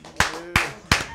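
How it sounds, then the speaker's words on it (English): Three sharp, close hand claps at a moderate, slightly uneven pace, each ringing briefly before the next, over a faint background hum. "Nigga was clapping for Squeeze now"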